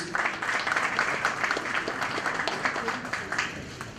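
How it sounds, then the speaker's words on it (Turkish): Steady applause from a crowd at a ceremony where a football federation backs a club and a disability association, dense and continuous throughout with faint voices underneath. "Alkışlarla destekliyoruz."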